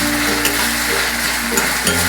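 Ginger garlic paste frying in hot oil with onion and tomato, giving a loud, close, continuous sizzle with faint stirring for a couple of seconds, no voices.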